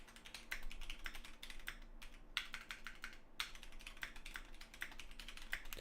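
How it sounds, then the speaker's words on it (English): Steady, quick clatter of typing on a computer keyboard, close and fairly quiet, with short pauses between bursts of keystrokes and no talking. "Sorry for the typing."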